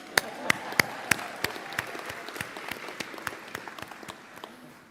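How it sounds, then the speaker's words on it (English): A small group at a graduation ceremony claps, sharp individual hand claps at first that thin into a scattered, fading patter over a few seconds. "So let's give our haters a round of applause."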